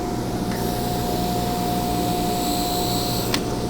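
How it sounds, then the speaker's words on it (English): A 400-grit 3M flap wheel polishes a metal pen mechanism part with a steady, even abrasive whir and a constant high tone, close and unbroken, ending in a brief sharp scrape. "Now from there, I'm going to go to our flap wheel here."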